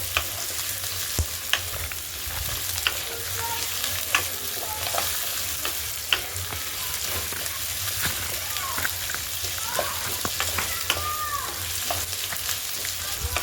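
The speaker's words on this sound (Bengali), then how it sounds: "আগে থাকতে কেটে রাখা আলুগুলো দিয়ে দেবো, দিয়ে পেঁয়াজটা ভালো করে ভেজে নেব।" Potatoes and onions fry in oil in a pan, a steady crackling sizzle broken by frequent stirring scrapes and clicks of a spoon, close and fairly loud for the whole stretch.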